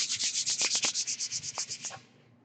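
Rhythmic back-and-forth hand sanding of a wooden book-holder piece with sandpaper, about a dozen even strokes close by, slowing and fading out at the end.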